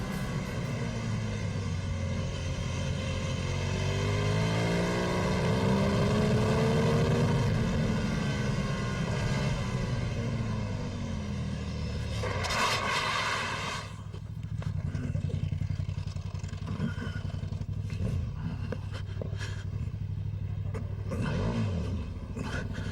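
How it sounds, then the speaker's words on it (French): A KTM Super Duke motorcycle races along a mountain road during a road rally stage, its engine loud and close with a rising, sweeping pitch as it passes, then a sharper burst of revving and blips as it accelerates away. "Christian Aquin au guidon de sa KTM Super Duke"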